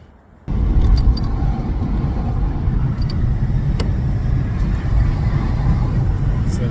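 A rebuilt VW Golf Mk6 drives along smoothly, its steady engine and road rumble filling the cabin without a break after a quiet first half second.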